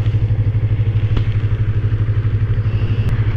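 Yamaha MT-25 motorcycle engine running steadily close by, a loud, even low-pitched rumble with a regular pulsing beat throughout and no speech over it.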